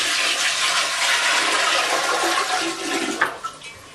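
Soapy water drains in a loud, rushing gush from a portable washing machine, a strong close flow that tapers off with a few gurgles near the end, no talking.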